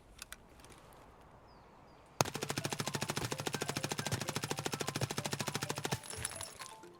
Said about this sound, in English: do some prone shooting first with my modded Mp5